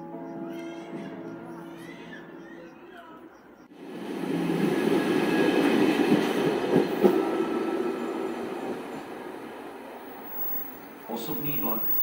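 A train pulls into platform 3 at Bratislava-Vinohrady station in Slovakia, a low rumbling roll that swells after a few seconds and holds steady, heard alongside public address announcements.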